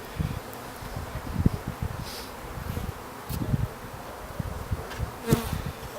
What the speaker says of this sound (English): there are loads of bees on this